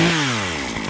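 Chainsaw trimming small sucker shoots off oaks near a house: a brief, close engine whine that drops in pitch as the saw revs down, heard alone.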